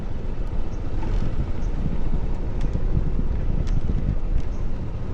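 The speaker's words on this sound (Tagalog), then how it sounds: "malakas ang hangin sa taas" Strong wind at a hilltop view deck buffets the microphone in a steady, loud low-pitched roar that persists without pause.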